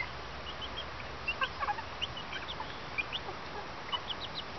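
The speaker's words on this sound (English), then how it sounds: "Hear the happy peeping sounds? That's happy bird sounds." Young birds eating bread give scattered soft peeps and clucks over a constant background hiss of rain.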